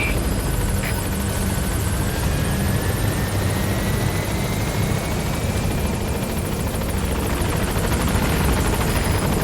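A Pequod helicopter from the Metal Gear Solid V video game approaches a landing zone, its rotor roaring loud and steady throughout with a constant heavy thrum and no talk.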